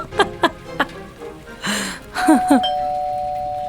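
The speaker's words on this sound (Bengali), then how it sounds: "Calling bell বাজল।" A two-tone doorbell chime rings in a Bengali romantic-thriller audio drama, clear and close after a few soft earlier sounds, its last tone lingering and fading slowly.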